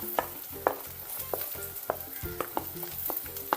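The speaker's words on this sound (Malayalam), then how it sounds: "ഇതും ഒന്ന് നന്നായി വഴന്ന് വരുന്ന വരെ ഒന്ന് വഴറ്റി കൊടുക്കുക" A cup of chopped shallots sautés in a pan for Kerala cashew nut curry, a steady close sizzle punctuated by regular spatula scrapes about every half second, with no one speaking.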